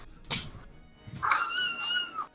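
A rescued kitten meows loudly and close by, a short high cry followed by a longer drawn-out meow, with a faint thump before it.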